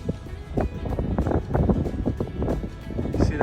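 Gusty wind buffets a microphone on a boat nearing a dock in open water, a loud uneven rumble of close wind noise with choppy bursts and low water sounds.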